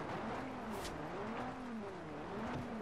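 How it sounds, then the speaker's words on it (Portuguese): A car drifts in the racing game Forza Horizon 2, its engine holding a steady, wavering whine with rising and falling pitch sweeps and faint tire squeal, continuous and loud without talk. "Fiz um driftzinho aqui, hein?"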